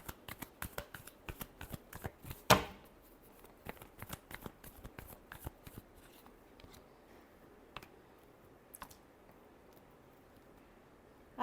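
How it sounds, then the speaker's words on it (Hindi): Tarot cards being shuffled by hand: a quiet run of soft riffling flicks, with one sharper snap early on, then sparser light taps and rustles toward the end. "last shuffle"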